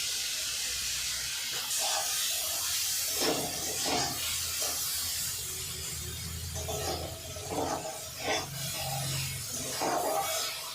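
Chopped onion, a medium onion's worth, hissing and sizzling in a hot pan while making chicken Maggi noodles, a steady steamy sizzle throughout with occasional clinks and scrapes, close up.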